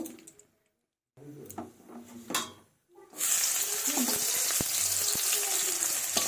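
Chopped onions sizzle and crackle loudly in mustard oil in a karahi after a few seconds of clattering and movement, a steady frying hiss with occasional pops.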